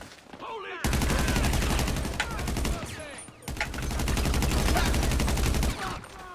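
Sustained automatic gunfire in the online shooting game GTA 5 Online, two long, loud bursts of rapid rattling shots separated by a brief pause, with faint game effects underneath.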